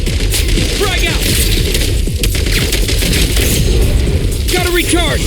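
Dense video game combat: a grenade explosion booms amid rapid, continuous gunfire, with loud, overlapping cracks and bursts filling the whole stretch and voices shouting through the din.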